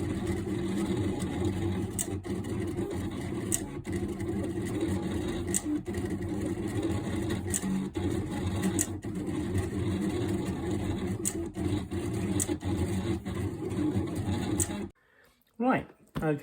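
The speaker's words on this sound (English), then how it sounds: "now the heat transfer vinyl is being cut out on the cutter" A vinyl cutter cuts heat transfer vinyl lettering with a steady mechanical whir, broken by regular clicks and knocks as the blade carriage moves. It falls briefly silent near the end before a short burst of movement.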